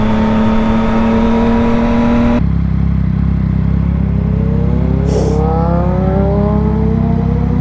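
A Suzuki GSX-R sport motorcycle passes on a city street, its engine tone rising and then dropping as it goes by, heard over steady traffic rumble with a brief sharp clatter partway through.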